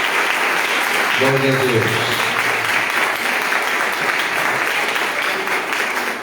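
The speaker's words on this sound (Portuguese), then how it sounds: "E as palmas louvam a Deus." A church congregation at a live worship service claps together in a steady, dense patter, while a voice speaks briefly near the start over the applause.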